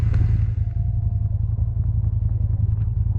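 A snowmobile engine runs at gentle, steady throttle while pulling a stuck skid steer free, giving a loud, close, continuous low rumble with a slight mechanical flutter.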